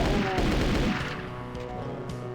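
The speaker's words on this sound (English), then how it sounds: "gonna get these guys out real quick to gun them down with the submachine gun" Submachine gun fire in Doom II, a fast burst of overlapping shots loud at first, then easing into a lower steady clatter of game gunfire and effects.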